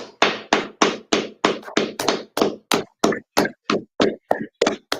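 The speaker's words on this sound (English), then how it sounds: "All right, clap it up." About sixteen loud, sharp, evenly spaced claps ring out close by in a steady rhythm, each a crisp broadband slap with a short decay and no talk over them, at a KFC Jamaica 50th anniversary show.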